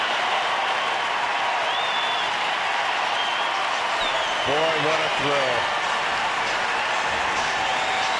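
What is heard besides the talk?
baseball stadium crowd applauding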